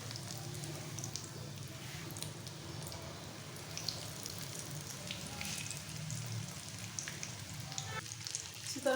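Chicken and chana dal snacks frying in hot oil give a steady, soft sizzling hiss with faint crackles and pops, constant and unbroken with no talking.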